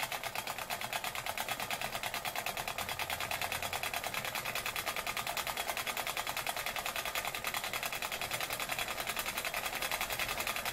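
Weeden No.20 Big Giant model steam engine running fast, its crankshaft rattling loosely in bent tin bearings, giving a rapid, even, mechanical clatter that holds steady throughout, close and moderately loud.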